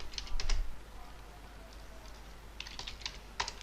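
Computer keyboard keys clatter in quick bursts as networking commands are typed, close and light over a steady low hum, with a pause between bursts.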